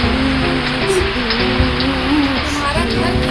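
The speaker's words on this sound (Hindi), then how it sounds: "एक दिन बहुत बारिश हुआ।" Heavy rain pours in a loud, steady hiss that fills the whole stretch without pause, with a faint tonal hum running underneath.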